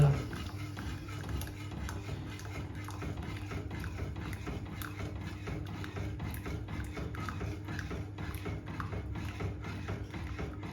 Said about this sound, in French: Vous versez et vous remuez en même temps.